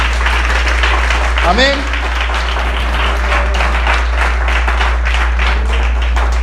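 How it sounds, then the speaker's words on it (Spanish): Dense applause from a church congregation fills the room, steady throughout, with a voice speaking briefly over it and a low hum underneath. "Le das un aplauso al Señor en esta mañana."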